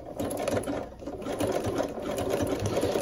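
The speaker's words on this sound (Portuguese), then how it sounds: "Você pode fazer o caseado à mão ou a máquina, como eu vou fazer aqui na beiradinha." A sewing machine stitches a buttonhole along the edge of fabric, running steadily and close with a continuous rapid mechanical whir and needle rattle throughout, no voices.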